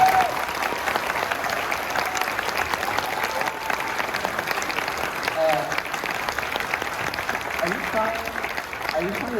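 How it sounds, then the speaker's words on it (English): Sustained applause from a convention panel audience at San Diego Comic-Con, steady clapping filling the room throughout, with a voice speaking briefly over it. "Could you give them an applause?"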